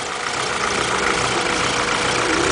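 A cammed 1993 Honda Civic engine idling steadily at close range, a loud continuous rumble with an even, slightly lumpy texture and no voices.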